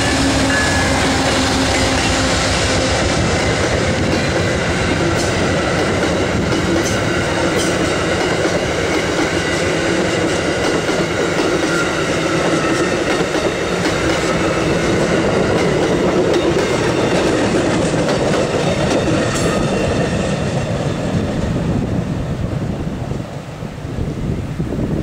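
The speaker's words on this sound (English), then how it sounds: "Better look than usual of Amtrak P-080 that are flying." Amtrak P42DC locomotive number 116 leading a passenger train past Thomasville on the Piedmont Division at about 25 mph, a loud, steady rumble with rhythmic clickety-clack of wheels over rail joints and wind buffeting the microphone throughout.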